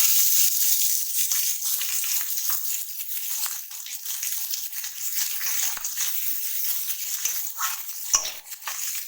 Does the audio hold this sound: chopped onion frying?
yes